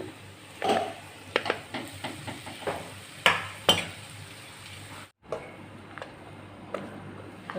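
Rice being stirred into a fried curry leaf mixture in a pan: a soft sizzle with repeated scraping and clinking strokes of a spoon against the metal, then a brief pause and quieter stirring.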